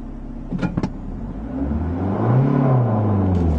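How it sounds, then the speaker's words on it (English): A car is started in second gear and its engine rises to a loud, close rumbling rev after a couple of brief knocks, with no talk. "I started the car in second gear"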